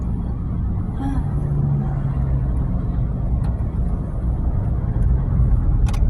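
A car driving along the Bangna–Trat parallel road in Thailand, with a steady low road rumble and tyre noise inside the cabin throughout, continuous and fairly loud with no talk.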